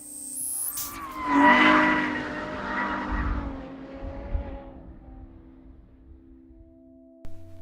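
A Ferrari F12 with a 6.2 litre V12 skids with its tyres squealing, a loud rising screech over engine roar that peaks early and then fades away into the distance before a brief final thump.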